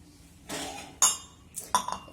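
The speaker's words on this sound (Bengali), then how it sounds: "চাটা ছেঁকে নিই।" Tea being strained, with a cup and utensils clinking: a few sharp metallic and ceramic clinks and light taps come close and fairly quiet, in short irregular bursts with brief pauses between them.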